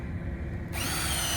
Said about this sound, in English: Drill the holes out a bit bigger.